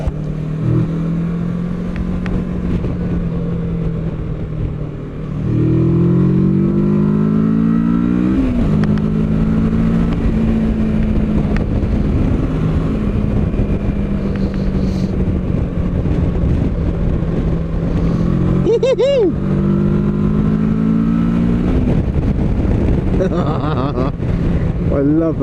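A 2021 Kawasaki Versys 650 motorcycle is ridden along a road, its engine note climbing and falling through repeated rises in revs and gear changes, close and loud under steady wind buffeting.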